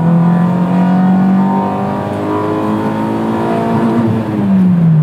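A Honda CRX Del Sol engine revs hard at high rpm, loud and close, its pitch climbing and holding with a droning whine throughout.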